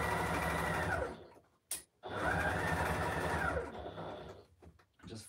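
A sewing machine stitches a fabric basket with foam inside, running in a rapid whirring burst, pausing briefly, then running again before slowing to a stop, close and clear.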